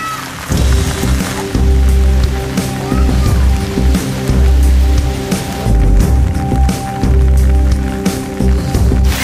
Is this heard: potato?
no